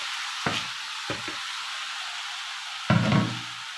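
Half a kilo of Egyptian rice poured onto fried vermicelli in a pot, giving three short bursts of rattling grains and soft sizzling against a faint steady hiss, with the last burst loudest.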